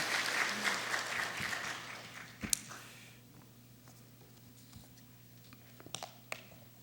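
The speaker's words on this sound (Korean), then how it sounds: "박수 한번 쳐주시죠." A congregation applauds during a Korean church lecture, a dense burst of clapping that fades over a few seconds into scattered claps and low room murmur, with a sharp knock partway through.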